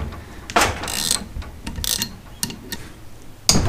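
A bolt extractor works loose a rounded bolt on a Honda CB500 Four front fork, giving irregular metallic clicks, creaks and scraping ticks close by, with several sharper bursts.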